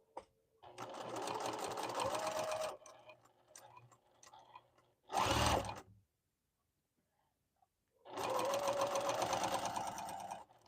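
An electric sewing machine with a thread-cutting foot pedal stitches in two steady, loud bursts, separated by a short heavy thump and quiet pauses, heard up close.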